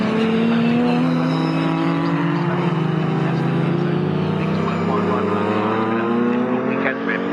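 A big Chevrolet Camaro race car in a sixties saloon race at Snetterton, its V8 engine roaring loud and close as it accelerates. The pitch climbs in long sweeps as it shifts up through the gears.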